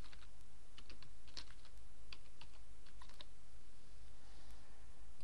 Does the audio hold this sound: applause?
no